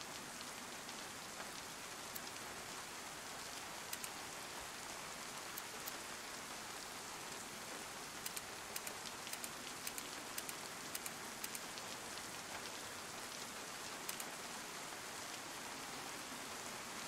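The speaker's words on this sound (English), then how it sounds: "I don't like the rain because I can't hear as well." Steady rain falling in the DayZ video game, a dense, even hiss of drops on surfaces with scattered sharper taps, fairly quiet and continuous, with no voices.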